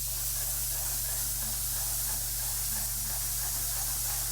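An airless paint sprayer pushing paint at 2400 PSI gives a steady, loud, unbroken hiss that runs the whole time at close range, over a low constant mechanical hum and with no speech.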